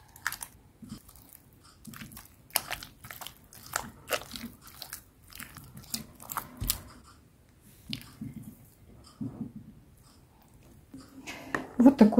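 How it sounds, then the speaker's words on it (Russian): The fifth egg goes into eclair choux dough made with water and vegetable oil, with soft squishy stirring and intermittent crunchy, clicking spoon-on-bowl sounds close up, growing busier toward the end. "И разбиваем последнее, пятое яйцо."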